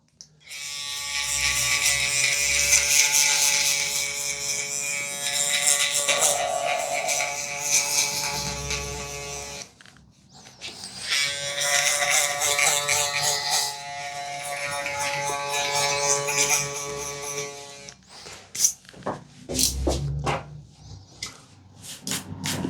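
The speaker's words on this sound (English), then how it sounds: "Then I will establish my trimmer guideline over here." Electric hair trimmer buzzing close up while cutting a taper fade, a loud steady whine in two long runs with a short break between, then intermittent bursts as the clippers touch the hair.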